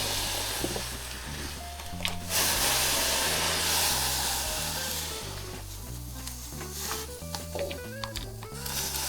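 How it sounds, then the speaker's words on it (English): Steady hissing bubbling of water boiling hard in a pot of potatoes, loud and close, with occasional clinks and a low hum underneath. "I am going to let it boil completely."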